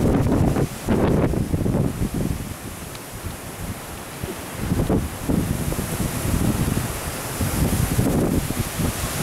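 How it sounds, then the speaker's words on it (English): Strong wind gusts at a lake near Laughlin, Nevada, during a fall windstorm batter the microphone in loud, surging roars that rise and fall over several seconds. "Here comes a big gust."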